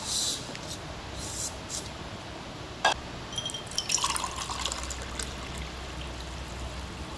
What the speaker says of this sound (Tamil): 1 கிளாஸ் தண்ணி ஊற்றி